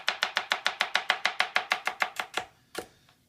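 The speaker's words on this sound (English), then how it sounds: "I'll cut them in half just to make it easier to push" A knife chopping food on a cutting board: about fifteen quick, crisp, evenly spaced chops in steady rhythm, close and clear with no voices, easing off into a couple of final cuts.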